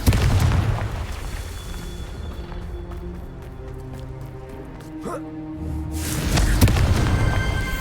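A Confringo blasting spell explodes in the video game Hogwarts Legacy, a loud booming burst at the start and another swelling blast near the end, with a sharp crack in between over a steady rumbling game soundscape.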